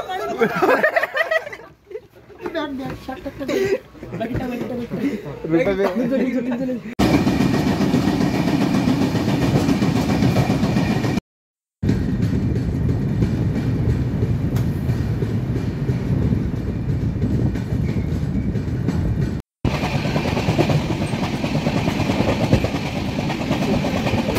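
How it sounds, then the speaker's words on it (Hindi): A loud, steady rumble of a metro train in motion fills the clip, with talking over the noise at the start and brief cuts in between. "अभी हम मेट्रो से जाने वाले हैं"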